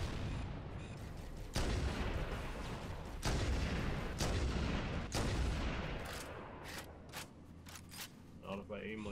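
Gunfire in Halo: Combat Evolved Anniversary, heard as loud, heavy shot bursts repeating every second or two over dense battle noise, with voices in between.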